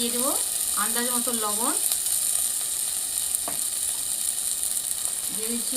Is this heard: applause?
no